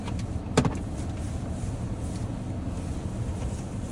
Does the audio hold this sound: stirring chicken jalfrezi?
no